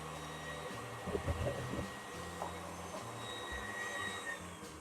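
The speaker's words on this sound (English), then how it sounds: "I'll stop the mixer now." An electric mixer hums as it beats vanilla pound cake batter made with Greek yogurt, a fairly quiet, steady motor drone with a few brief clattering bumps near the start and no talking.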